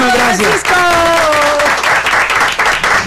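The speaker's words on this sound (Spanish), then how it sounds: "Un aplauso para ustedes" Applause rises in a theatre during an interview with a guest on a Central American tour in Costa Rica, mixed under a loud, exclaiming voice and lively speech that dominate the clip.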